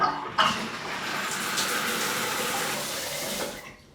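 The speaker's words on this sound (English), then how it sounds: "now I just turn the water on" Bathroom tap turned on after regrouting tiles, water gushing in a steady close rush for several seconds before cutting off, with no talking.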